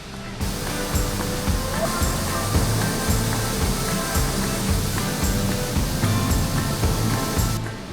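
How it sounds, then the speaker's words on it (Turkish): Small waterfall beside an old stone bridge in Ulubey Canyon, a continuous near splashing rush of falling water with a low churning undertone, a voice talking faintly over it. "Ayrıca yanında da ufak bir şelale var farkındaysanız."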